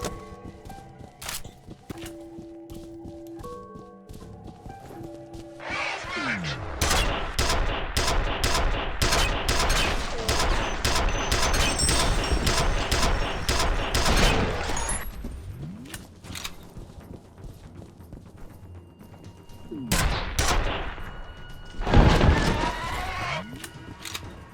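Rapid bursts of heavy gunfire from the shooter game F.E.A.R., played on extreme difficulty with a mod, rattle loud and close in two long volleys with a short lull between them.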